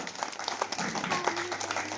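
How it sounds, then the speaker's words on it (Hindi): Audience applause welcoming a guest at a primary school annual function, a steady moderate patter of clapping from a crowd lasting the whole moment. "जोरदार करताली स्वागत करते"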